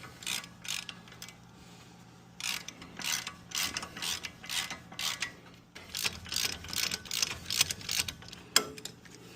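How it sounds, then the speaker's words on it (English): A ratchet wrench clicks in quick bursts while removing the lower ball joint bolts on an 11th-generation Ford F150. The loud, close rattling strokes come in groups separated by short pauses. "Now I'll move back over to the ratchet."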